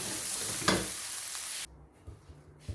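A spiced vegetable filling for flaky croissants cooks in a pan and is stirred, giving a steady close sizzle that cuts off abruptly partway through, leaving quiet scrapes and a few soft knocks.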